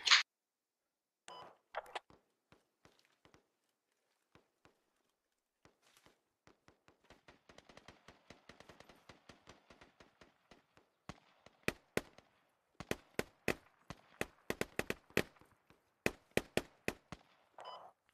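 Gunfire in the Squad video game, Alpha 3.8: isolated distant shots at first, building into rapid bursts of sharp, loud cracks, with no talking.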